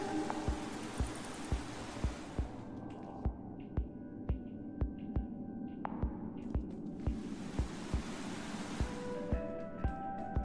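Steady rushing waterfall in Minecraft: Story Mode, a broad continuous wash of falling water with regular soft thumping beats and faint tonal game cues layered over it.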